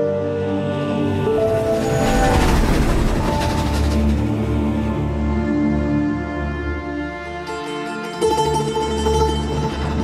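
Locomotive-hauled train rumbling along in the Last Train Home game trailer, a steady loud mechanical roar with dense rolling tones and metallic rattling, alone without voices across the whole stretch.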